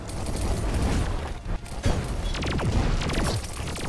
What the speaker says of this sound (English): On impact, this weapon makes little geysers or little explosions from below.